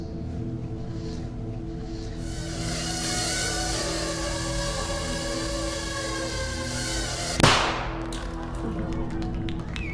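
A tiny shaped explosive charge holding about 3 grams detonates as a single sharp, close pop partway through, cutting across a steady droning background tone.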